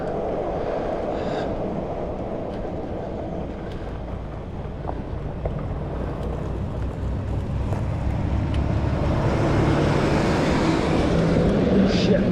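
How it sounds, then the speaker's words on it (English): A garbage truck drives past on a road, a steady heavy rumble that builds louder as it nears, mixed with strong wind buffeting. "I got a garbage truck coming up behind me."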